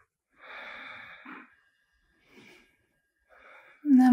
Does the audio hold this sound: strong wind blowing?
no